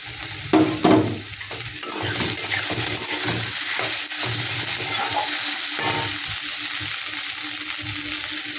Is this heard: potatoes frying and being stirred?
yes